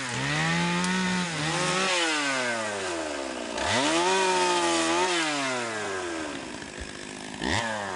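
A chainsaw cuts small branches into little pieces beside a river, its motor revving up and down in repeated surges and dips, close and loud, with no voices.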